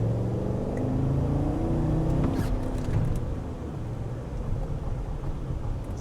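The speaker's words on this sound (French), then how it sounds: "Bon, on va faire une petite accélération." Cadillac Escalade pulling away in moderate acceleration on a road with traffic nearby, a steady low engine drone and rumble that rises slightly, heard from inside, with no talk.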